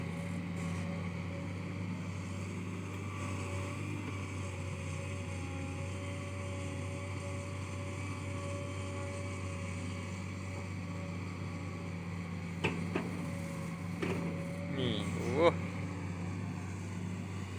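A Kobelco SK200 excavator engine roaring steadily at a dig site, a continuous low droning hum with a few brief clanks near the end, heard under a voice.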